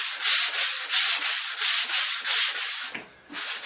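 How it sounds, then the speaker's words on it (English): Sandpaper rubs back and forth across a planed wood surface in steady, regular strokes, close and clear, with a brief pause near the end before another stroke. "you need to finish off with sandpaper"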